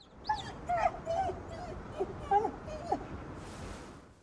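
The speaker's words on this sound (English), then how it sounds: "I could feed a dog who would often take me to a collectible" A dog in Ghostwire: Tokyo gives a run of high, plaintive whimpers and short yips, spaced unevenly across a few seconds over a soft background hum.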